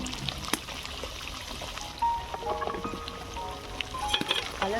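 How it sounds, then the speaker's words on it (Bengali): White cooking oil poured generously into a frying pan, ready for deep-frying methi leaf parathas; a quiet, steady trickle of liquid with a few soft knocks, no talking. "এখানে আমি অনেকটাই সাদা তেল দিয়ে দিলাম"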